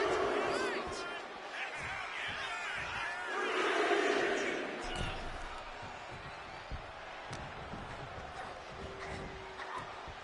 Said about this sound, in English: The crowd is behind Charlotte, and she knows it.